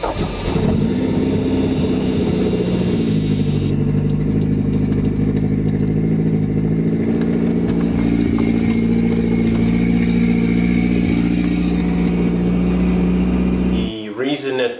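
A Toyota MR2 Turbo with a swapped 3S-GTE engine fires up and settles into a loud, steady idle close by, its low rumble running unbroken for about fourteen seconds before cutting off.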